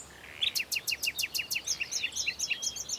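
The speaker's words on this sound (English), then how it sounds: "Nightingales are small, nondescript birds, rarely seen." A nightingale sings in woodland, a bright run of rapid repeated high notes followed by varied chirping phrases, clear and fairly close against a quiet background.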